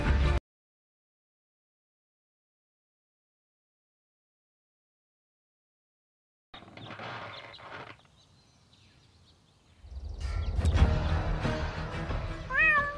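A cat stuck up a tree in a video game meows a few times, each a rising and falling wail heard near the end after a long silence and some rustling game noise.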